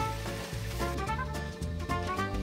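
Tomato sauce with chicken fries in an iron kadai over a high flame, giving a steady close sizzle broken by brief scraping knocks as it is mixed.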